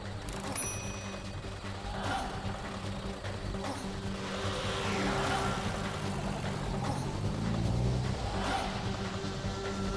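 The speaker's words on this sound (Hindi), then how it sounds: "रिवर्स गाड़ी घुमाओ।" A car reverses and drives away in a scene from a Hindi horror TV drama. The engine hum runs steadily and loud throughout, with some tyre noise, and a faint voice is heard under it.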